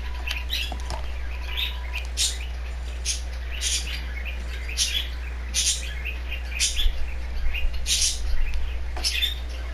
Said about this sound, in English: Sorry if you hear bird noises or a fan.